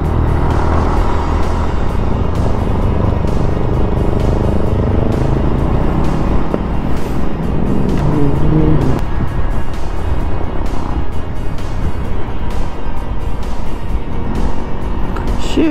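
An MSI125 motorcycle engine drones and rises in pitch as it accelerates to overtake on the road, with steady loud rumble and wind noise close by.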